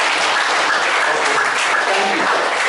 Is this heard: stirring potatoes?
no